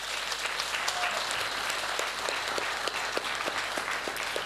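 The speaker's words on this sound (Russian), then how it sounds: "Давайте ему поаплодируем" An event audience at a 2010 combat sports tournament applauds Fedor Emelianenko: dense, continuous clapping from a large crowd, moderately loud, with sharper individual claps standing out.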